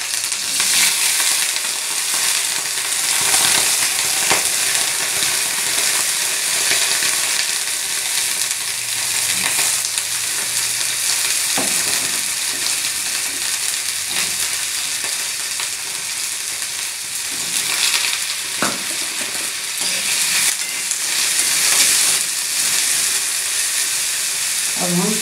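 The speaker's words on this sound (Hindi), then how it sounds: "तेल हमारा गरम हो गया है, अब हम सारी सब्जियों को डालकर" Mixed vegetables sizzle steadily in hot oil in a kadhai, a dense continuous frying hiss throughout with occasional stirring scrapes and clinks.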